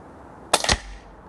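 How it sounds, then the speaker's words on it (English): A single shot from a Daystate Wolverine Midnight Blue air rifle at a target, a sharp close crack with a quick second pop, then a short fading tail in a quiet outdoor setting. "Okay, second shot,"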